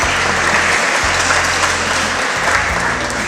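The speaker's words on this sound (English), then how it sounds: "please give her a round of applause as well." Loud, close audience applause at an event honoring Chef Michelle Bernstein and cancer survivors, a continuous dense roar of many hands clapping with a low hum running underneath.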